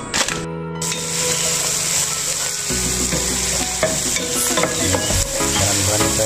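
Spices, cinnamon sticks and onion sautéing in a hot pan for a village chicken curry, a loud continuous sizzle with scraping and clattering stirring strokes close by.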